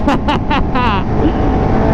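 A 1000cc motorcycle's exhaust backfires as the throttle is released: four sharp, loud pops in quick succession over the first second, followed by the engine settling into a lower, rumbling idle.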